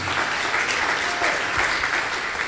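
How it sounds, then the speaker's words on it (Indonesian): A church congregation breaks into steady, dense applause, loud and continuous across the whole stretch with no talk over it. "Beri tepuk tangan."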